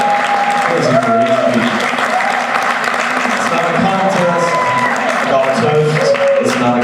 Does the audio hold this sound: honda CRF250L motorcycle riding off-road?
no